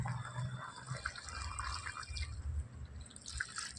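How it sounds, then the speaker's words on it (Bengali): Boiled water poured into a simmering mixed-vegetable curry in a pan, a soft steady trickle and splash with light sizzling underneath, fairly quiet and continuous throughout. "এবার আমি জল দিয়ে দেবো"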